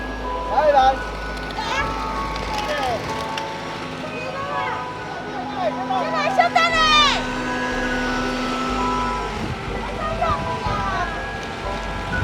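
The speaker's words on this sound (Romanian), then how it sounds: "Vine mașina de gunoi în vârful muntelui, cântă și aici." A garbage truck on a mountain top in a Chinese village plays a looping electronic melody, clear and fairly close, while someone talks over it throughout and engine rumble and other voices sit underneath.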